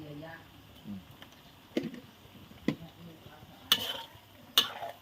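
Food is stir-fried in a pan, with a low sizzle under talking and several sharp scraping clanks of a utensil against the pan, the last two louder and brighter.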